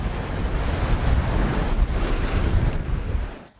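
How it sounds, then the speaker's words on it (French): Ocean waves breaking against small cliffs on the Yucatán coast in a light wind, a steady wash of surf and wind rumble that holds loud and continuous before fading out at the end. "il y a de mini-falaises sur lesquelles les vagues se brisent"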